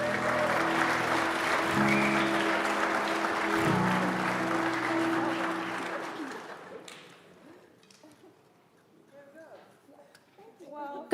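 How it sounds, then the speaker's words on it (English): An audience at a global sustainability challenge finale applauding a team, dense clapping under a sustained musical tone that fades away after about seven seconds into quiet room sound with scattered faint noises. "So a big round of applause for them once again."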